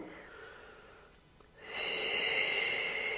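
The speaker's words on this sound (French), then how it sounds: "Pensez à votre inspiration, expiration, soufflez bien." A person does stretches seated on a chair and lets out a long, breathy exhalation, audible as a steady airy rush up close. It follows a quieter stretch of softer breathing.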